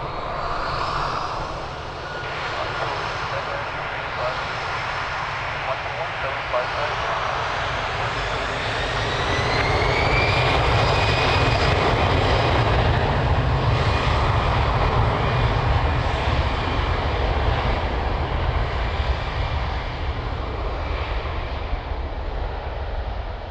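A jet airliner takes off from runway 02 at Lisbon Airport, a loud, steady engine roar that swells and builds toward the middle and holds strong to the end, heard alone without voices.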